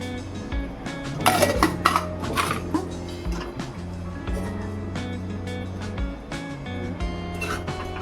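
A metal pot and ladle clatter as cooked rice is layered over chicken for biryani, with scraping, clinks and knocks repeating close by, a brief louder burst early on, over a low background hum.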